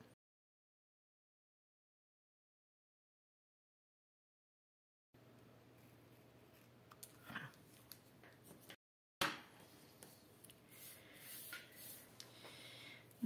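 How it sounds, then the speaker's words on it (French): Scissors cut along the outline of a paper bee's body from the reverse side of a stamped card. After about five seconds of silence come faint, close snipping and rubbing sounds, broken by one brief pause. "avec les ciseaux, je vais longer le contour du corps de mon abeille"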